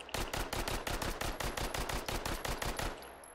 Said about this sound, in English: Let me go to machine pistol here. Glock 18.